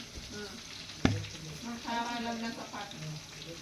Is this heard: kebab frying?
yes